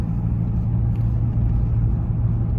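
A car engine rumbles steadily from inside the cabin while driving, a loud, even low drone with no voices.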